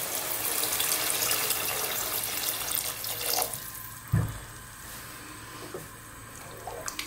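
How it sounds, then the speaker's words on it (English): Cold water runs from a kitchen tap into a pot for tomato coconut lentil soup. The stream is loud and steady for about four seconds, then stops, leaving a thud and a few quiet drips. "And then I'm going to go in with just some regular cold water."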